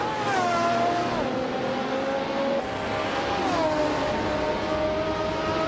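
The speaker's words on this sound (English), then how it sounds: "Calico Bunny is driving a vintage Mercury Cougar from 1967" A vintage 1967 Mercury Cougar in a racing video game holds a steady engine drone with smooth rises and dips in pitch as it shifts, loud and continuous with no talk.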